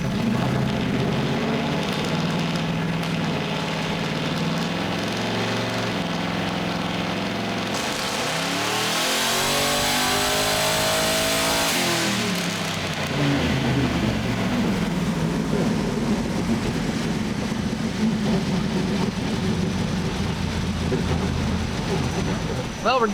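A car engine revs hard on a dyno with its air filters removed, a steady loud roar that climbs and then falls back, while people talk over it.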